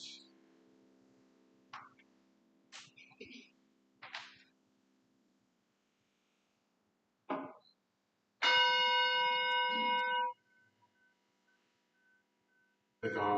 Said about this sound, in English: The gong was hidden from view.